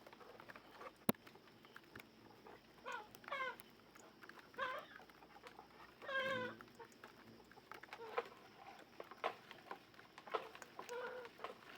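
Chickens clucking at night in a rural setting, scattered faint calls and short squawks at a distance over low background noise, with no talk.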